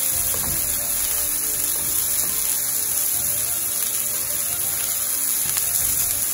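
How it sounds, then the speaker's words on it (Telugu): Salmon pan-roasting as oil renders out of the fish, giving a loud, steady, close-up sizzle that crackles evenly throughout with no talking. "ఇప్పుడే సాల్మన్ నుంచి ఆయిల్ బయటకు రావడం స్టార్ట్ అయింది"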